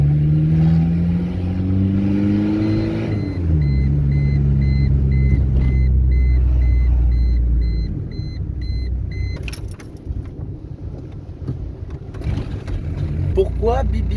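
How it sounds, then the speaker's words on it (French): A Golf 3 TD diesel engine with its turbo removed idles and revs with a clear, repeating electronic oil warning beep in the first half, steady pulses over the rumbling motor. "Ça a fait un voyant d'huile, ça a fait bip bip bip."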